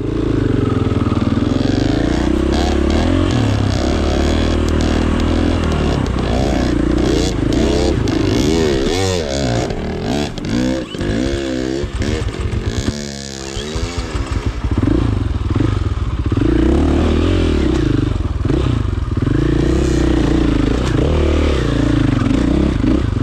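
Motorcycle climbing a rocky trail at Quartz Creek in the Little Naches area of Washington State, engine droning loud and steady in low gear with revs rising and dipping, rocks scraping and clattering beneath, brief voices in the mix.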